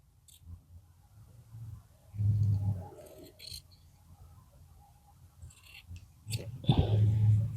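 Scissors snip cloth for underwear at a tailor's table in a few short, crisp bursts of cutting separated by quiet pauses.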